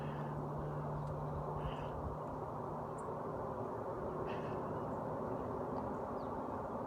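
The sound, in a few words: distant train rolling on tracks, muffled by trees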